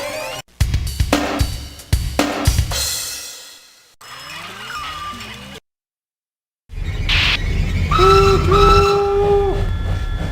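A train in the video game Blown Away: loud rumbling rail noise with sharp clanks, a falling whistle-like tone, a brief silence, then a long sustained multi-tone horn or whistle blast over heavy rumble.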